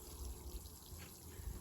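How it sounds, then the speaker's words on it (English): Epsom salt (magnesium sulfate) solution poured onto the soil around a citrus tree's drip line, a faint, steady trickle of water running throughout. "And then we want to water around the drip line."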